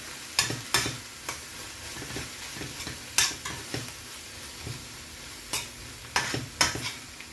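A pan of chopped tomato sizzles softly while a utensil scrapes and stirs in irregular strokes, with no voices.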